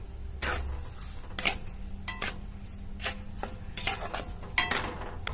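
Sugar and mango are stirred in a pan over a low flame, producing repeated scraping and clinking strokes of a utensil against the pan at an uneven, steady pace under a soft background hum.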